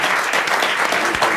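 A studio audience on a 1993 French radio-television game show claps for a contestant who has just won 1000 francs, producing a full, steady burst of applause with no speech over it.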